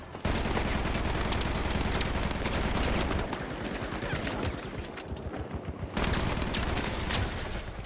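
AK rifle fire in a zombie video game: loud sustained automatic bursts, a brief lull in the middle with lighter scattered shots, then the heavy fire resumes.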